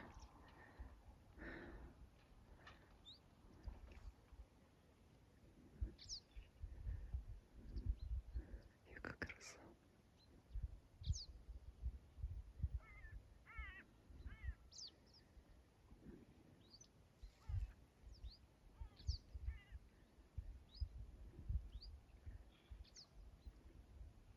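Scattered birds chirp and call faintly in the distance over a quiet outdoor background near the waves at dawn, with soft murmuring voices and occasional rustling nearby.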